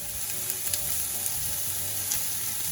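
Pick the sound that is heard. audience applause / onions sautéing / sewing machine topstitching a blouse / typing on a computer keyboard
onions sautéing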